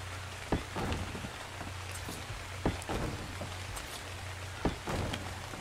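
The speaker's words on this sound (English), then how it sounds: "I apologize for this awful, awful rain." Steady rain falls in the game Ark: Survival Evolved, a dense even hiss of drops on surfaces with occasional louder splashes and a low continuous hum beneath, with no voices.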